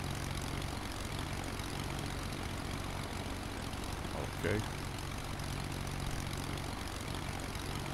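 Steady propeller airplane engine drone fills the whole stretch from inside the plane cabin, loud and constant, with a brief spoken word partway through.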